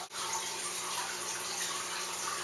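Wine running through a siphon pump tube into a carboy during home winemaking, a steady close liquid rush and trickle that starts almost at once and continues evenly throughout, with no talking.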